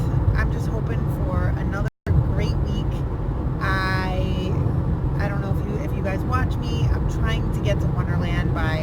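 Inside a car driving to work, a steady low road rumble and engine drone runs throughout, with a brief cutout and a voice talking over the noise.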